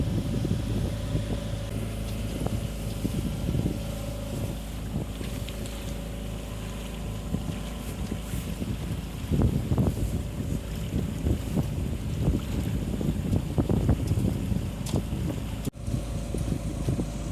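A motorboat drones past on a river, its engine rising and falling under gusts of wind buffeting the microphone.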